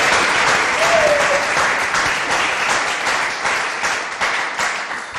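A church congregation applauds in loud, dense, sustained clapping that fills the space steadily for several seconds, with only slight swells and no break.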